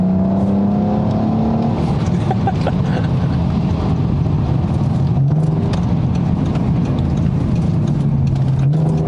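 A car's engine hums and shifts pitch while it drives along on an everyday grocery run, an unbroken steady drone heard from inside the cabin with no speech.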